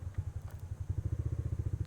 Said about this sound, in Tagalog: Ayan, start natin yung motor.